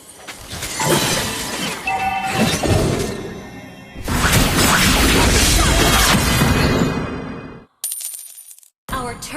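Turret destruction in Mobile Legends: a loud burst of shattering crashes and clattering debris, with a heavy crunching mix through the middle, then a sudden cut to silence and a bright short chime.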